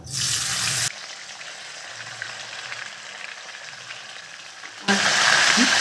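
Puti fish hit hot oil with a bright, loud sizzle that drops to a quieter crackle and then surges again loudly near the end.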